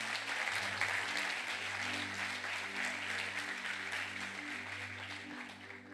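A church congregation claps steadily through the whole stretch, a dense, even wash of applause from a large room, sitting over a sustained low organ or keyboard drone, with no voices rising above it.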